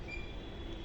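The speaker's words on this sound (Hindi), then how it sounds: "और पीछे जा रही है मेट्रो।" A metro train rumbles past near a stadium with a low steady roar and faint wheel squeal, brief and moderately distant.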